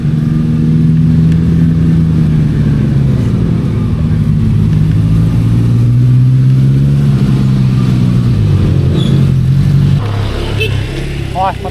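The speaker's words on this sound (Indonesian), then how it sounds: "Wah, motor." A motorcycle engine runs close by with a loud, steady droning growl that holds for about ten seconds, then drops lower as it moves off, with voices talking over it.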